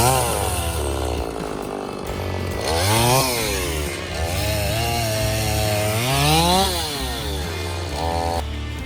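A chainsaw felling timber in Alaska snarls close and loud, its engine revving up and dropping back in repeated surges as it cuts, with no one speaking.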